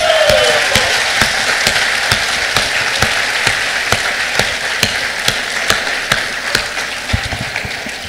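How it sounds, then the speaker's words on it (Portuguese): Applause from a church congregation during a sermon, a steady wash of clapping with sharper individual claps standing out at intervals, loud and continuous throughout. "Eu mesmo aplaudo, muito bom isso."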